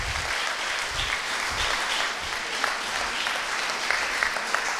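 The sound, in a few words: applause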